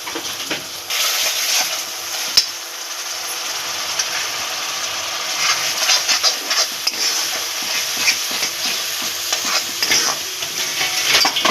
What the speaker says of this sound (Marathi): वाट अद्रक लसूण आणि खोबऱ्याचं जी वाटण केलेलं आहे ते आपण त्याच्यात टाकणार आहोत कांदा चांगला परतलेला आहे मसाला मिक्स करून घ्या